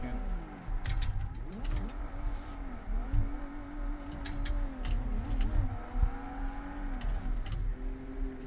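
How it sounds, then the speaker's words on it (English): A BMW E36 engine in the BeamNG driving game howls near redline, wavering revs held high for several seconds, loud and continuous with a few sharp transients. "the E36 has just been living on redline for a second"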